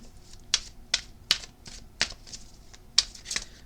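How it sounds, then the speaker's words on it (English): A tarot deck is shuffled by hand in a quiet room, giving a run of sharp, crisp card riffles and snaps at a loose, uneven rhythm, close and clear with no talking. "let me give it another shuffle so we can get that last card of the message"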